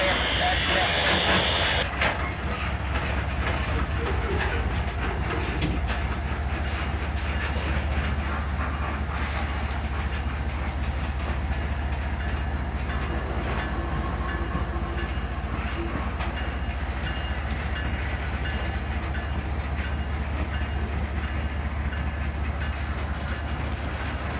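A freight train rumbles steadily past on the tracks in Plant City, Florida, with continuous rattling and clacking of wagons, loud and close, and faint voices underneath.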